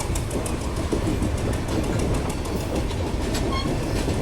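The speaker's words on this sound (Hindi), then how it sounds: "हमारी ट्रेन जो है वो लाइन चेंज कर अब बढ़ रही है आगे आगरा फोर्ट की तरफ।" Train changing lines on the approach to Agra Fort in India, a steady loud rumble of wheels with clickety-clack over the rails, continuous and close, with no voices.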